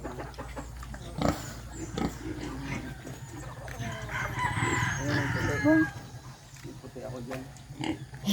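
Chickens cluck and a rooster crows among farmyard animal noises, with a person talking over them throughout.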